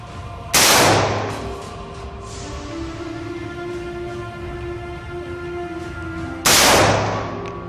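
Two loud, sharp AR15 rifle shots fired by a young child, spaced several seconds apart, each cracking hard and then ringing off into a low outdoor hum.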